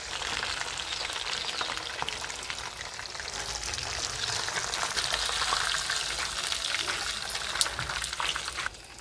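Semolina-coated fish frying over a wood-fired stove, a steady loud sizzle and crackle with dense spattering pops that continue throughout without voices.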